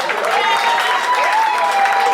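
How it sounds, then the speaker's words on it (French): Audience applause and ovation at a wedding celebration, a steady dense wash of clapping filling the whole stretch, with a faint sustained tone and some voices mixed in. "Sous vos ovations, je vous en prie"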